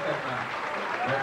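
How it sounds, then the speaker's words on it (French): Seniors' carnival audience applauds in a short, steady patter of clapping, fairly close and even throughout, with a faint voice mixed in. "On peut se lever, on peut l'applaudir, certainement."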